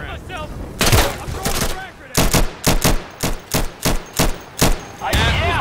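Gunfire in the tactical shooter Insurgency: a rough burst of noise gives way to a rapid, regular string of about eight loud, close shots fired in quick succession.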